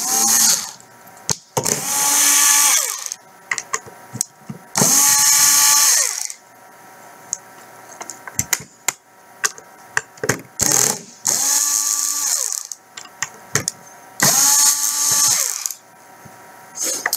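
A power screwdriver backs screws out of the front bezel of a GP58-CR cutter: several bursts of whirring motor, each a second or two long, separated by quiet gaps and small clicks and handling taps.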